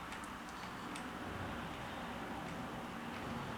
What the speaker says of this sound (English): Sorry about the road noise. Can't get rid of it.